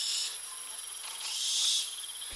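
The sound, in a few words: insects chirping at night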